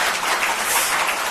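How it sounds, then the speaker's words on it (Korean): Dense, steady applause from an audience at a Korean policy forum on the wellness industry fills the whole moment, evenly sustained with no voices over it. "오늘 박수 한번 칠까요?"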